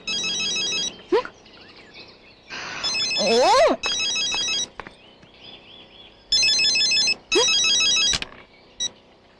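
A phone's electronic ringtone sounds in several loud bursts separated by pauses, with voices talking in between.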